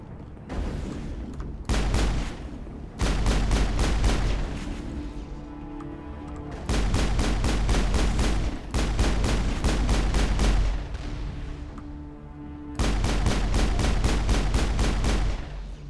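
Rockets launched in the sci-fi shooter Mass Effect, several loud bursts of rapid fire and heavy blasts arriving in separate salvos with brief quieter gaps between them, close and forceful.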